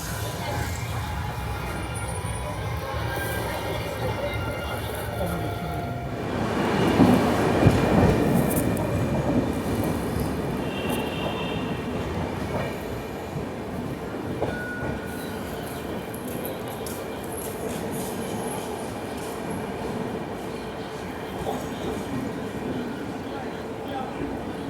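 Capital Express 13247 passenger train from Kamakhya to Siliguri pulling out after a scheduled halt, a steady broadband rumble of wheels and carriages with a louder surge early on, heard from on board with faint voices in the background.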